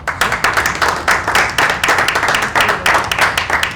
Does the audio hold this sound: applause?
yes